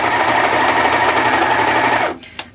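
A Singer serger overlock sewing machine runs loud and steady at speed for about two seconds, then stops abruptly, leaving a brief click in the near quiet.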